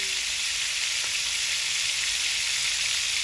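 Leafy greens fry in hot oil, giving a loud, steady, close-up sizzle that holds evenly throughout with no voices.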